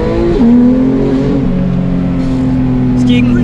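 Porsche 911 GT3 of the 991.2 generation driving, its engine a steady loud drone with a gear-change dip in pitch early on, then holding a constant note under continuous conversation.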